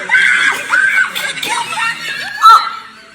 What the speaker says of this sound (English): Listen to her scream.